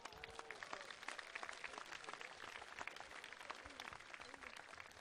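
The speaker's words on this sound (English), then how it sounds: "Je vous demanderai d'applaudir Macau Foster." An audience at the Miss Tahiti gala claps steadily, a dense continuous wash of applause from a sizable crowd with a few faint voices mixed in.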